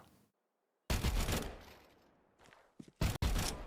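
Burst-fire gunshots in a video game railgun, three rounds fired as one: a loud sustained blast with a fading tail after a short silence, then a pair of quick sharp bursts near the end.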